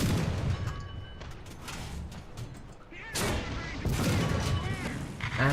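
War Thunder gunfire booms in several heavy, sharp blasts with rumbling decay, loud and close, while someone talks over and between the shots.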